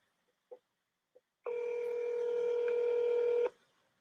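Dialing a home landline telephone: a few faint keypad clicks, then a steady, loud two-tone dial signal that holds for about two seconds before cutting off, close and alone with no talk.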